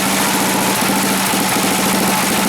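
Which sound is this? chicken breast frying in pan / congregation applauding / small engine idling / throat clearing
small engine idling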